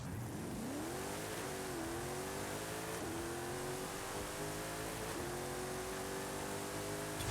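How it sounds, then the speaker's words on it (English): A drag car in Forza Horizon 5 does a burnout and launches: the engine holds steady revs, then climbs in rising sweeps through several gear shifts. The tone is loud and continuous, with no talking over it. "you want to do a little burnout here"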